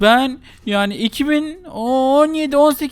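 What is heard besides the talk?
None of the usual background noises is heard.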